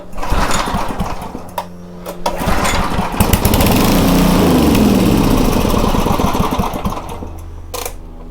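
A Homelite 2500 watt generator started without choke, with a pull-start rattle followed by a loud, close small engine sputtering and running roughly for several seconds before dying down.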